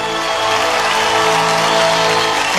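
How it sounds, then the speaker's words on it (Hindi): Dense, loud, unbroken applause from an audience after a child's Bhagat Singh dance performance, with faint cheering mixed in, steady throughout and with no talk over it. "हमारे इस नन्हे भगत सिंह के लिए एक बार जोरदार तालियां बजा दो सब लोग"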